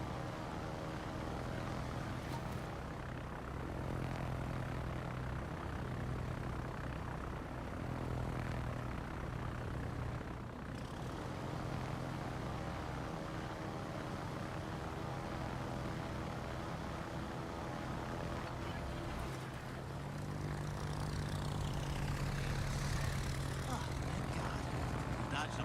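Propeller aircraft engines drone steadily overhead throughout a video game firefight, a continuous low hum under a player's talk.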